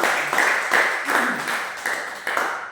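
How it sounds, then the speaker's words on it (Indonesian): Church congregation applauding during a worship service, a short, even wash of clapping that holds steady with soft pulses and no one speaking over it. "Mari kita berikan tepuk tangan bagi Tuhan."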